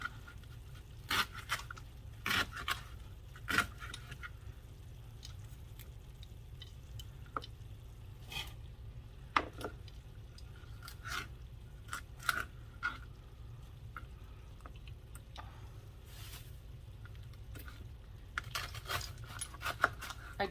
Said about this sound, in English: Going until you've cut up all of the cabbage.